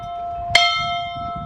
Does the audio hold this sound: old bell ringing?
yes